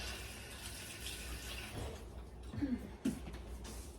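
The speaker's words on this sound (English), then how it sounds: "I'm going to rinse my hands off." Tap water runs steadily into a kitchen sink while hands are rinsed under it, with a couple of brief splashes and clunks near the end, close and fairly quiet.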